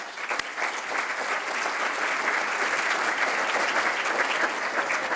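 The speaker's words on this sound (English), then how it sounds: "Please give them all a round of applause." An audience at a community forum applauds the chamber of commerce officials, a broad steady wash of many clapping hands that swells in the first second and holds evenly throughout.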